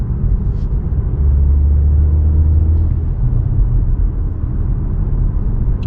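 A 2024 BMW X2 M35i with M adaptive suspension rolls over railroad tracks, a loud steady low road-and-engine rumble inside the cabin with a few faint knocks from the tracks, and no talking.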